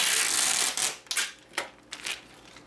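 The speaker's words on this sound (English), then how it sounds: "here's how I tape this down" Tape is pulled off the roll and pressed onto plastic water bottles: a long ripping hiss, then several short, sharp tearing bursts, close and fairly quiet.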